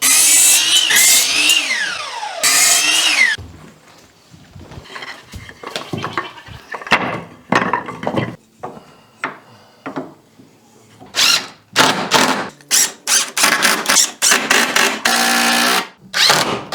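Power tool cutting wooden pickets for a goat grain feeder: loud bursts of sawing at the start and in a dense run near the end, with clattering handling noises between them and goats bleating now and then.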